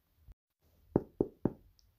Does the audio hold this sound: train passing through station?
no